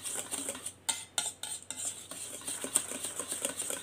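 Banana cake batter is mixed in a bowl with a utensil, giving quick scraping and clinking strokes in an uneven rhythm, close and fairly quiet, with no talking.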